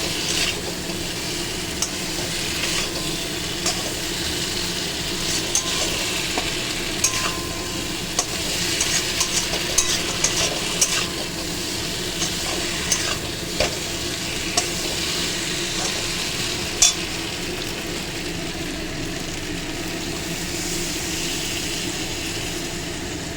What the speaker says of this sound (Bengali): আলুগুলো দিয়ে একটু নাড়াচাড়া দিয়ে এর মধ্যে জল দিয়ে একটু ঢাকা দেবো।